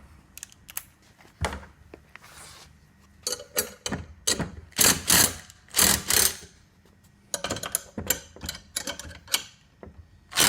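A ratchet loosens the bolts on a wheelie bin hitch, giving bursts of quick, close mechanical clicking separated by short pauses.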